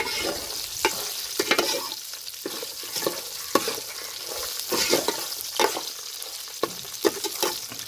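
Fenugreek seeds, peanuts and cumin dry-roast in a pan while a spoon stirs them, producing repeated scraping strokes over a light sizzle, close and clear.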